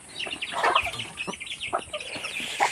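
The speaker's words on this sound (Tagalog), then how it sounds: "Ayan, napakain si Riri ng mga manok." Farm chickens clucking close by at feeding time, a rapid series of short, irregular clucks and squawks with a louder call near the end.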